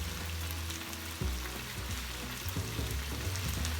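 Chicken, onions and cabbage fry in a pan with a steady, close sizzle and spatter, broken by a few low clunks as the food is stirred, while Japanese pasta is cooked.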